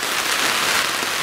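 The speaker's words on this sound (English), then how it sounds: "Well, it's not raining, it's pouring down." Heavy rain pours down on an outdoor camp, a dense, continuous hiss of drops hitting surfaces with no letup and no voices.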